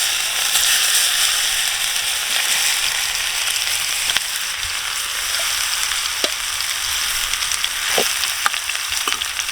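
Spice mixture sizzles and fries steadily in hot mustard oil, a continuous close crackling hiss with a few sharper pops near the end and no talk.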